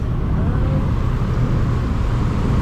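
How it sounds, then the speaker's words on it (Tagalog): Steady road traffic idles and creeps near a stoplight, a continuous low rumble of cars and heavier vehicles with no clear passes, fairly loud and close throughout. "Grabe yung traffic dito."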